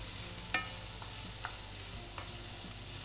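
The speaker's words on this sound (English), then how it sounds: "I'm adding on the carrots now." Carrots stirred into onions and green beans in a pan, with a few soft spoon scrapes spaced over a quiet, steady background sizzle, close but fairly faint.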